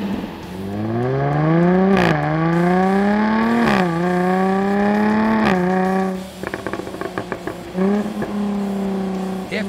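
A Jaguar F-Type 3.0 exhaust revs repeatedly, recorded at the tailpipes, engine pitch climbing and dropping in several loud pulls, followed by crackling pops as it settles to idle.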